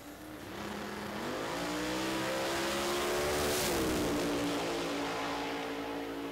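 A drag race car makes a run down the strip at an NMCA elimination round in Indy, a loud sustained engine roar that climbs in pitch and shifts, heard from the stands with no talking.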